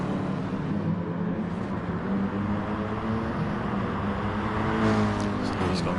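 Simulated race car engine in a racing video game, droning steadily as the car heads downhill in a team race, with a commentator talking over it throughout.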